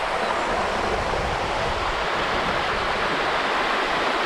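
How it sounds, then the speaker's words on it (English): A waterfall pours beside a mountain path in the Scafells, a loud, unbroken rushing roar of water heard up close without any talk. "So look at this waterfall, absolutely beautiful."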